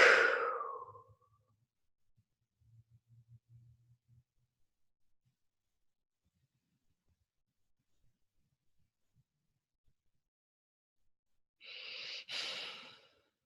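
Slow guided breaths during a chakra meditation, one soft breath fading out at the start and another after a long near-silent pause, close and gentle with no talking.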